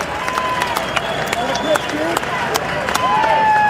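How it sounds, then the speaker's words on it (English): Oregon State Beavers fans cheering in a college baseball ballpark during a College World Series game against Coastal Carolina, a distant, steady crowd roar with scattered whistles, heard beneath a broadcaster's voice. "You can hear them cheering in the background."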